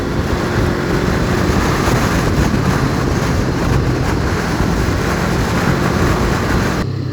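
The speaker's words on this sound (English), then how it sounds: "I've got a lot of wind like battering me from the sides as well" Loud, steady wind buffeting a rider on a Honda CBR sport motorcycle fitted with a tall smoked OEM windscreen, a dense continuous roar that holds throughout and cuts off abruptly at the end.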